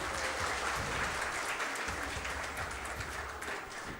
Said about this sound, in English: Let us give a big round of applause for this significant moment.